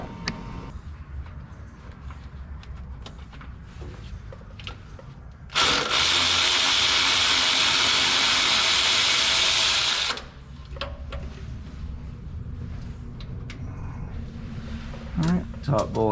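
Wrench or ratchet tightening a starter motor bolt under a Ford Econoline van: a steady, dense whirring burst lasts several seconds, framed by quieter clicks and handling noise.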